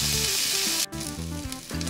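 Octopus and potatoes sizzling on a hot griddle, a brief bright hiss that cuts out abruptly partway and resumes with clattering, tonal scraping as pieces are turned, close up.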